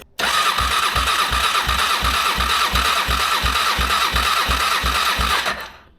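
A 23-year-old crashed Honda VFR800 motorcycle engine cranks steadily on the starter during a compression test, with a regular rhythmic chug of compression strokes under a loud whirring starter for several seconds, then stopping.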